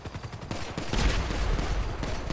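Video game shootout gunfire: rapid bursts of shots rattle close and loud at first, then swell into a dense, continuous barrage of overlapping fire for the rest of the moment.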